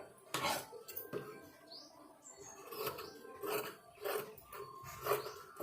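Scissors snip through blouse lining fabric in a quiet room, a series of soft, crisp cuts at an irregular rhythm, close but faint.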